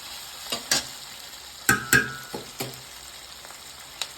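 Vegetables frying in a pan for vermicelli uppittu, a soft background sizzle broken by several sharp scrapes and clinks of a spoon stirring, close and otherwise quiet.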